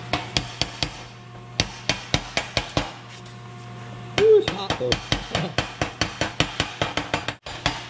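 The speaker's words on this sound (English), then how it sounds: "let's take the slag hammer and see if we can knock this off" Sharp metallic slag hammer taps chipping 7018 arc-welding slag, steady rapid strikes repeating throughout, with a brief spoken remark partway through.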